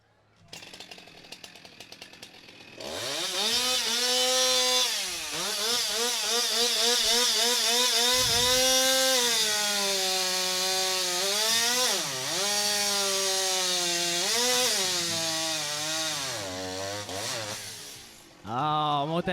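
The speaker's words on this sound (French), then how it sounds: "Les scies mécaniques, la grosseur a grossi, mais la bûche aussi, elle a grossi." Chainsaws cutting logs at a timbersport competition, a loud sustained engine whine with revving pitch changes lasting over fifteen seconds before cutting off near the end.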